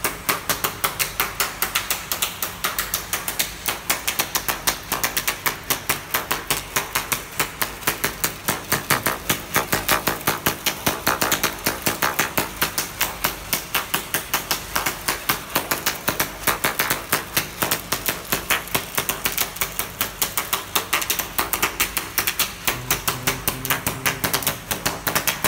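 A pick-up label laminating machine runs nearby with a loud, rapid, continuous mechanical clatter of evenly spaced ticks that holds steady for the whole stretch, with no speech.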